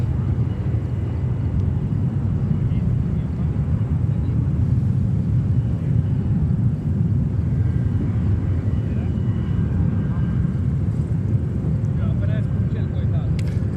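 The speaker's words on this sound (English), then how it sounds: "British Airways flight 173 from London Heathrow on a 777-300." A British Airways Boeing 777-300 landing at JFK airport gives a steady, broad jet rumble heard from a distance for the whole stretch, with voices faintly audible in the background.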